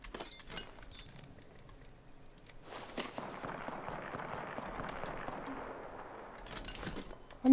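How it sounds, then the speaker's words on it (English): Distant gunfire in the Apex Legends battle royale shooter, a dense crackle of shots rolling on over several seconds beneath quieter footsteps and gear rattles, faint and far off. "I'm hearing gunfire, I just don't see it."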